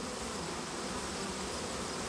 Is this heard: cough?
no